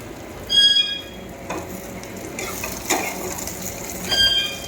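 Shrimp stirred and frying in a pan over a gas flame, with a steady sizzle and short scraping, clattering bursts from stirring.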